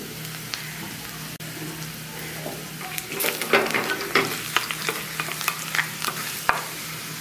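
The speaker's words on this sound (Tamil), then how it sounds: "கடுகு பொரியுது" Crackling, popping sizzle of mustard seeds and spices hitting hot oil for curd idli tempering, growing busier and louder after a quieter start, with faint stirring and no talk.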